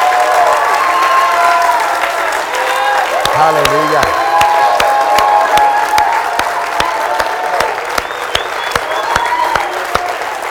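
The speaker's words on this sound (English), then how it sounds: "everybody worship the Lord with a hand clap" A church congregation claps in worship during a service, a continuous crowd applause with scattered sharp nearby claps, some cheers and whoops, while a voice calls out over it.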